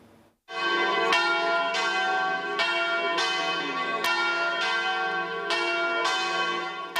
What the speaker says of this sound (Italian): I rintocchi delle campane nella chiesa arcipretale